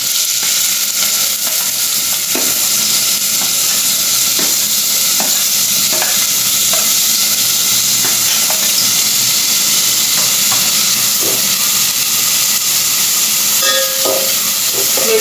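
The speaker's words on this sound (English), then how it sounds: "We'll saute it till it is nice and translucent." Chopped onions and tomato sautéing in three tablespoons of hot oil in a pan, a loud, continuous close sizzle and hiss with scattered scraping stir strokes throughout and no talking.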